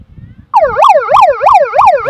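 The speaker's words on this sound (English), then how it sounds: "And siren sounds" Loud wailing siren at the end of a women's AFL football match between South East London Giants and London Swans, rising and falling in repeated sweeps after a brief murmur of crowd noise.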